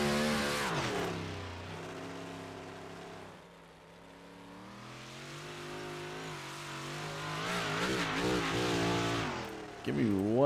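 An iRacing IROC dirt race car engine revs through a victory lap, its droning pitch rising and falling, dipping briefly midway before surging loud again, steady and close throughout.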